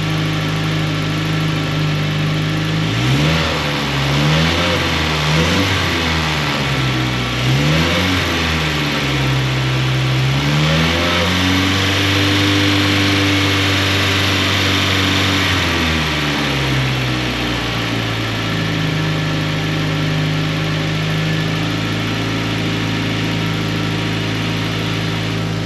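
An engine idles, then revs up and down in several throttle blips before settling back to a steady idle; loud, close and mechanical, with no talking.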